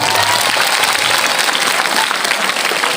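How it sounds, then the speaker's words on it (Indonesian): Loud, dense audience applause at an Indonesian gathering, a continuous close roar of clapping hands filling the whole stretch without pause and with no voice over it. "Tepuk tangan lah."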